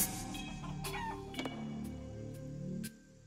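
Chickens clucking in the video game Shenmue III, a few soft, fairly close clucks and short squawks scattered across a quiet background, with brief sharp accents near the middle and end.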